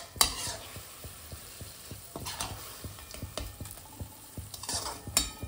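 Melting jaggery cooks in a pan for pumpkin gharge, with a soft, close sizzle and a regular scrape-and-tap of a spoon stirring throughout at low volume.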